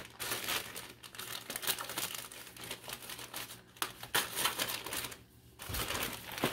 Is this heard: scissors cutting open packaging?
yes